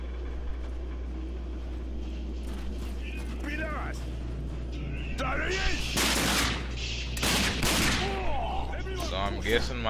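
Gunfire in a shooter video game, with sharp bursts of shots and rapid volleys over a steady game soundscape, while someone speaks at several points.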